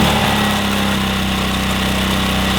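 A 1966 Honda P50 moped engine idles steadily and loudly close by after a cold start, a continuous low buzzing putter with no voices.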